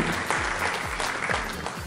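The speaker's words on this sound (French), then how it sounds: "Et j'ai envie de les applaudir." An audience claps at a school information session. The applause is brief and steady, with faint voices murmuring underneath.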